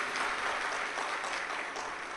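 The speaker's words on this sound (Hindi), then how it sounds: "एक बार जोरदार ताली बजाकर साथ ही कहा।" A large audience at a Shiv Mahapuran katha in Chhattisgarh breaks into loud, dense applause that carries on steadily with no voices over it.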